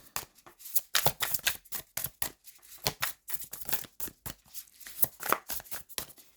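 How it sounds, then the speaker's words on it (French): Tarot cards are shuffled by hand in a quick, uneven run of crisp slaps and riffling clicks, close and fairly loud, with no voices. "Ah, ça fait beaucoup trop de cartes. On va les remélanger,"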